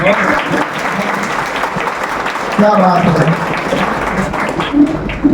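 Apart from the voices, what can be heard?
applause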